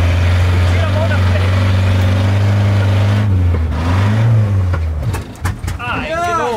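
Volkswagen Kombi van engine revving hard with a sustained low drone, pitch rising and falling before cutting out near the end, while people talk excitedly.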